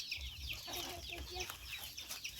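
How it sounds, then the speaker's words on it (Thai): Chickens cluck softly in short, repeated calls at a small farmyard, faint and somewhat distant over low background noise. "อุ้ยไก่น้อย"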